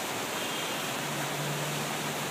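Water splashing at the Empire Waterfall festival fountain makes a steady, dense rushing hiss that stays even and close throughout, with no voices over it.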